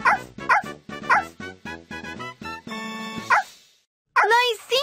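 Cartoon puppy barking in a Dora the Explorer children's video game, several bright yips and whimpers in quick succession, with a sustained musical chime and a short pause before more.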